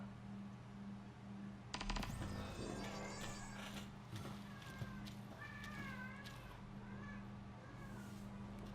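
Cats meowing in a drawn-out, wavering way several times, close by, over a steady electronic hum from a video game, with a brief clatter near the start and a person talking at points.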